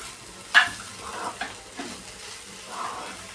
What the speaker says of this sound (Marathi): आपण हे आलं आणि लसूण घालूया. ते पण चांगलं फ्राय होऊ द्यायचं.